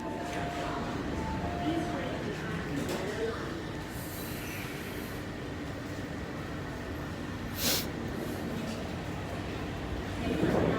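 A train passes at Ma On Shan station, a steady low rumble and rolling rail noise held for about eleven seconds at moderate distance, with brief higher squeals and voices talking over it.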